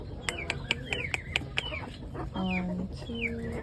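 Backyard free-range chickens, young birds let out of the coop on a morning farm, cluck close by in a quick run of short calls followed by a few longer, drawn-out squawks.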